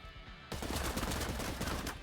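Gunfire from a first shot in the tactical game Cyber Knights: Flashpoint, a sudden loud burst followed by a dense, rattling volley that keeps going for well over a second before easing off.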